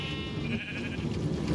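Sheep bleating in the Minecraft video game, a steady hum of bleats and ambient game noise throughout, ending in a sharper louder burst, with no talking.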